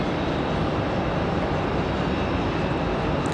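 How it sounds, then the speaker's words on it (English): A Delta Boeing 737 jet airliner departing Raleigh Durham International, heard as a steady, loud broadband engine roar that fills the whole stretch without a break or voices. "We've got a Delta 737 on the way out."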